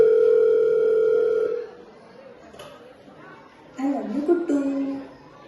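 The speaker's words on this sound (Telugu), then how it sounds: "ఇప్పుడు నేను హేమంత్కి కాల్ చేస్తా" A phone call rings out with a steady, loud electronic tone lasting over a second. It then cuts off, leaving low background noise and a burst of nearby chatter.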